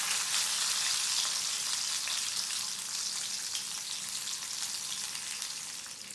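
Chopped garlic fries in a pan, a continuous close crackling sizzle that fades slightly toward the end, with no speech.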